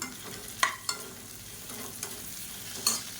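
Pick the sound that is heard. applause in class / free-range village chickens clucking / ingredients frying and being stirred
ingredients frying and being stirred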